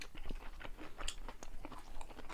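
Close, quiet chewing of braised beef and chonggak kimchi, with a crunchy, irregular rhythm of bites and soft crunches and no talk.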